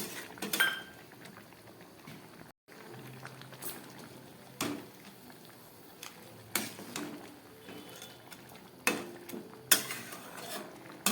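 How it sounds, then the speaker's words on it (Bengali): Crab curry boils in a pot with a steady bubbling simmer, broken by occasional louder clatters and knocks of a spoon or lid, close by. "তরকারিটা পুরো ফুটে উঠেছে"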